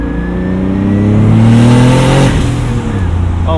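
Big-turbo 1995 BMW 325i engine revs up loud and close, pitch climbing then dropping off as the throttle lifts, a steady mechanical whir throughout.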